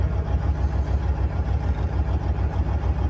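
A 2003 International 9200 truck with 1.3 million miles and 2,500 engine hours idles after running about an hour and a half, giving a steady, deep diesel rumble that stays even throughout with no voices.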